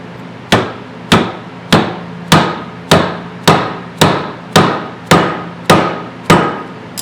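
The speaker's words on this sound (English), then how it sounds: "Actually, this is a nice dead blow hammer." Eleven sharp, evenly spaced dead blow hammer strikes on pushrods, each a loud dull thud that quickly dies away, steady rhythm, no talking.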